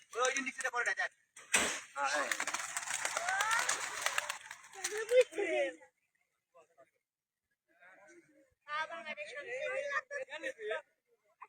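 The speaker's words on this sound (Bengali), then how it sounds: "আমাদের কবুতরগুলো উড়ে যাচ্ছে সব আপনারা সবাই দেখতে পাইতেছেন" Racing pigeons from a Barguna club are released at the start of a 150 km race, with a flurry of flapping wingbeats close by and voices talking over and around them.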